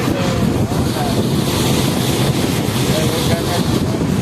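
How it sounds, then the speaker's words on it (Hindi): Strong wind sweeps across Nag Baba ghat, a riverside ghat in Buxar, roaring as a loud, steady rush that buffets the microphone without letup. "बहुत तेज हवा चल रही है यहाँ पे।"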